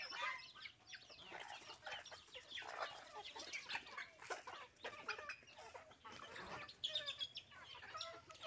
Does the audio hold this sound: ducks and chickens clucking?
yes